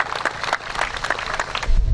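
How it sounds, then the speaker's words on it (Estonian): Spectators at an outdoor race event clap for the women's winner, a brisk patter of hand claps from a modest crowd, close and lively, with a low thump near the end. "Aplaus siis naiste võitjale."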